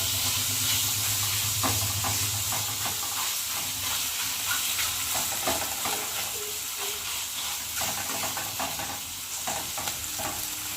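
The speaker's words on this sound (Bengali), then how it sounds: "দিয়ে ভেজে নেব। কোনো মাছ তরকারিতে দিয়ে ভাজতে হবে।" Fish frying in mustard oil, a continuous loud close sizzle and hiss with occasional stirring knocks and spatula scrapes throughout.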